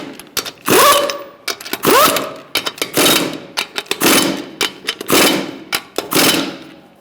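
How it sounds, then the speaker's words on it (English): Lug nuts on a 2012-2017 Hyundai Accent 1.6L front wheel are driven tight with a 21mm socket in a crisscross pattern. About seven loud, close whirring bursts, each a second or less, come in an uneven rhythm with short gaps between them. "Using a 21mm socket, we're going to tighten up our lug nuts in a crisscross manner."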